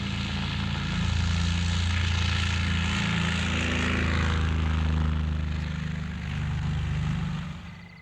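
A propeller aircraft from a smuggling fleet taking off at night produces a loud, continuous engine drone that swells slightly and then eases, with no other sounds over it.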